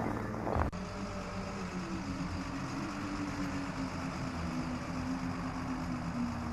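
A truck engine in an adventure video game, a low steady motor hum rising slightly in pitch as it draws nearer, continuous against quiet ambience after a short bump at the start.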